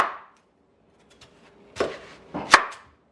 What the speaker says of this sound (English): So we're gonna do is give it some slices like so.